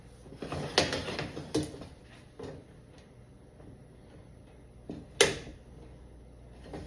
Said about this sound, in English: I turn my griddle often so that the heat is distributed